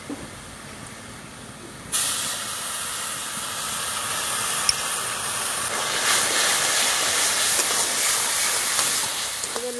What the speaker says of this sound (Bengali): এবার আমি রসুন দিয়ে দেবো